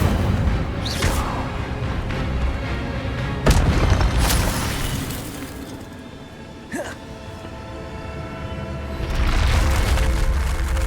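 A fire spell is cast in the Hogwarts Legacy video game, producing loud booming bursts and whooshing swells over the game's continuous ambient rumble.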